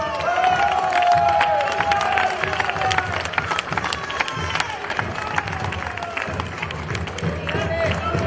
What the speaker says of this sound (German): Einen kräftigen Applaus für unsere Fischer!